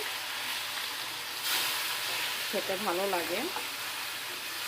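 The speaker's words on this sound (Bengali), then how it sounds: "আমি এটা ভেজে নিচ্ছি" Rohu fish pieces fry in oil until browned, making a steady, moderate sizzle that runs throughout, with a person speaking briefly over it near the end.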